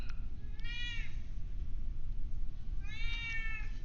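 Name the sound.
cat meowing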